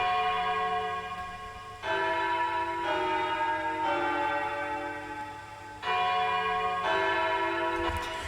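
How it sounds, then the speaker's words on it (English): A sampled church bell layered into a waltz-style music production rings in long sustained tolls, with two strong strikes about four seconds apart whose bright overtones ring out and slowly decay, loud and alone. "the only remaining new instrument that's worth talking about is this church bell."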